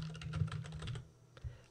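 Rapid keystrokes on a computer keyboard while entering a name into a software license request form, a quick, close burst of clicks that pauses briefly and then resumes.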